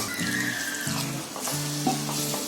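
Water is poured into vegetables cooking in a pan, giving a short burst of sizzling and bubbling with a few pitched gurgles from the pour.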